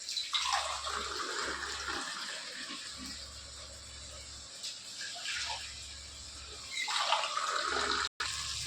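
Water is poured from a tumbler into a cooker for pasta, a splashing, gurgling stream that comes in a few separate pours with brief pauses between them, close and fairly soft.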